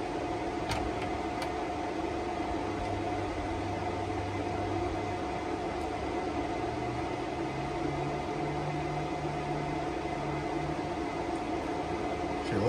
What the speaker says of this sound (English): now it's letting the turbine build up some RPM